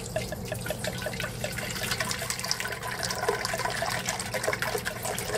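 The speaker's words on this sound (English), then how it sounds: "we've measured out exactly 2 liters of water. So we're going to add that in around the bomb." Exactly two liters of water are poured around an airtight bomb calorimeter vessel, a steady close splashing trickle that runs on continuously without pause.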